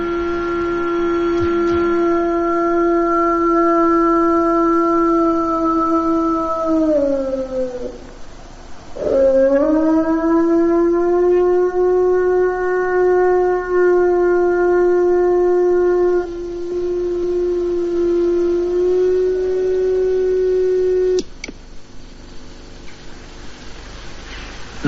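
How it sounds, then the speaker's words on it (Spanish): A long, sustained wolf howl rises and holds, breaking off briefly and resuming, then fading to quiet near the end; no voices. "el aullido del lobo es uno de los sonidos más impresionantes que ha producido criatura viviente alguna"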